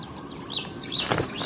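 A zebra dove flaps its wings on the ground in a brief flurry of soft whooshing beats, close and fairly quiet, with a louder burst near the end.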